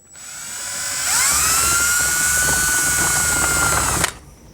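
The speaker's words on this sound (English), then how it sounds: "You're gonna come over here and drill your hole." A power drill with a large bit whirs steadily for about three seconds, its motor pitch rising and loading as it bores a switch hole on a Jeep, then cuts off abruptly.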